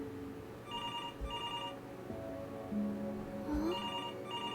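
A telephone rings in the narrative game Before Your Eyes, repeated electronic trills in short bursts over a low ambient hum, fairly quiet, with a brief rising tone near the end.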